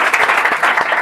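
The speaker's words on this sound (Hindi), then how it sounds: "जोरदार तालियां" Audience at a motivational talk breaking into loud, dense applause, many hands clapping close and continuous for the whole moment.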